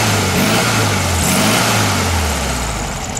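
A Volkswagen engine idles steadily at a car show and swap meet just after its carburetor has been adjusted, a continuous low rumble with a slight wavering in pitch, loud and close with no talk.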